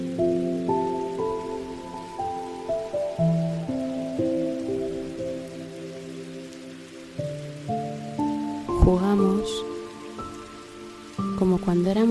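Rain falling steadily on surfaces, a soft continuous patter beneath sustained, slowly shifting musical tones that swell briefly near the end.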